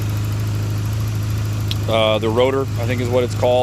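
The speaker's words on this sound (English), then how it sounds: "So right now the bike is warmed up, idling a little high." A warmed-up 1992 Yamaha XJ600 Seca II motorcycle engine idles a little high, a steady low drone running throughout while someone talks over it close by.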